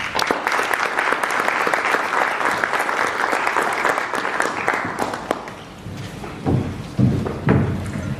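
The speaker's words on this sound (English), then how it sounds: "Can we have another round of applause for him?" An audience at an oil and gas summit breaks into sustained applause, dense clapping that fills the room and then thins into scattered claps and a few thuds toward the end, with no talk over it.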